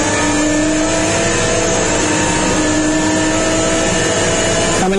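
A GT race car in third gear accelerates hard out of a quick chicane at Oschersleben, the onboard engine loud and close, its rising whine held steady before a sudden shift near the end.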